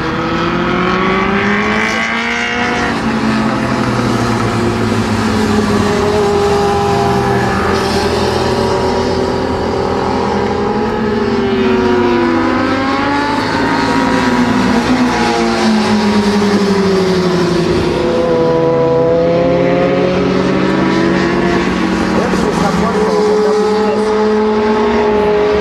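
Suzuki race car passing on the Mérignac circuit, its engine loud and continuous with rising and falling revs as it heads into the far corner, a steady motorsport roar throughout.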